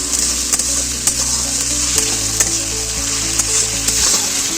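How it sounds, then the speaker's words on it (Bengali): Ginger frying in a pan with a steady, loud sizzle, with occasional stirring clicks and scrapes. It goes on continuously throughout, with no talk, while the ginger is being cooked down well for a fish curry. "আদাটা ভালোভাবে কষে নেব"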